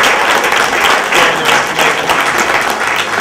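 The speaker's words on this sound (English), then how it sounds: "let's do a round of applause to our panelists." Steady, dense round of applause from a seminar audience honoring the panelists, loud and continuous throughout without pauses.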